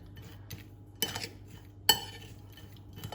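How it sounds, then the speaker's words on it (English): A spoon stirs a Peshwari naan filling mixture in a bowl, giving a few scattered scrapes and clinks over quiet gaps, with two sharper knocks near the middle. "So just mix it thoroughly so all the ingredients are combined"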